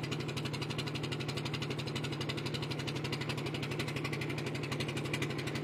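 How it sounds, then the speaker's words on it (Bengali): A small engine-powered boat motor chugs steadily on a river, a close, continuous rhythmic thrum with a fast pulsing beat and no pauses. "এই দেখুন ছোট্ট নৌকার মধ্যেও ইঞ্জিন চালিত নৌকা,"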